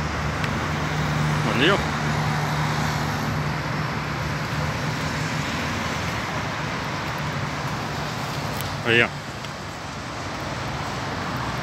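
Road traffic on Avenida Pedro Álvares Cabral in São Paulo, near Ibirapuera Park, makes a steady wash of passing cars and wind, with brief bits of nearby talk over it.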